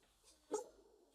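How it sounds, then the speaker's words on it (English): A dog lets out a single short bark or yelp near the middle, moderately close, against a quiet indoor background with no talk. "Dog's barking."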